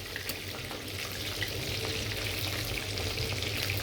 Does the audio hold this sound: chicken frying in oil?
yes